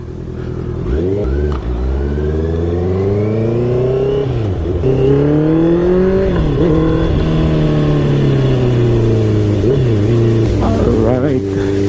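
Honda CBR 650R motorcycle on a test ride, its engine revving up and down through repeated rising pitch sweeps as it accelerates and shifts, loud and close, with a rider talking over it.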